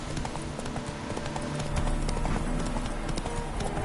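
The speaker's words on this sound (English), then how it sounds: "Spooking my horse. Roach doesn't like ghosts." The horse Roach trots along in the video game The Witcher, with steady clip-clopping hooves and faint ambient game sound behind.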